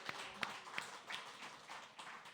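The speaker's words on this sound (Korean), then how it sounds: "우리 환영의 박수를 하겠습니다." A small church congregation at a Sunday service claps in welcome for newcomers, with faint, scattered claps heard quietly at a distance in a hushed room.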